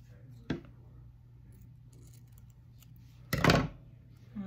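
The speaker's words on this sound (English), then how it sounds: "I'm even gonna try to cut it so it's kind of curved" Small scissors snip a tiny curved piece of paper for an animal collage, giving two quick close crisp cuts separated by near silence, the second longer and louder.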